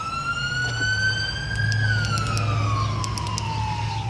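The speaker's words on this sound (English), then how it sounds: "once this ambulance passes." An ambulance siren wails past near a roadside, with a steady tone that gently rises, then drops in pitch as it passes, over a low vehicle engine rumble.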